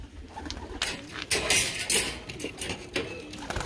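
Ornamental pigeons coo close by in repeated soft throaty phrases, mixed with wing flutters and light clatter around a pigeon loft.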